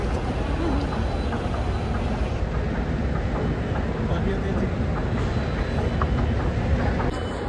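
Metro train running through a Delhi metro station, a loud continuous rumble and rolling rail noise with clattering wheels that stays steady and close for several seconds, ending with a faint high whine.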